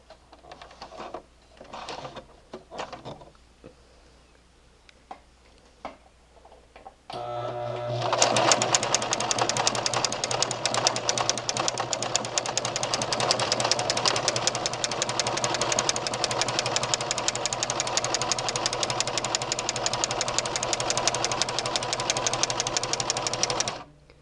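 A Brother LX3014 sewing machine fitted with a flower foot and twin needle sits quiet with a few light clicks, then runs into a steady, loud, rapid stitching whir that continues unbroken for over fifteen seconds.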